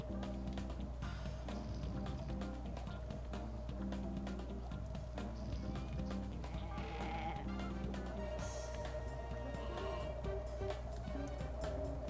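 Sheep bleat repeatedly in the video game Looney Tunes Sheep Raider, layered over continuous game music with light ticking and running sounds.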